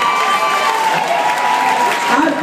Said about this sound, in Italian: fare l'applauso per le mammaline qua sul palco con me.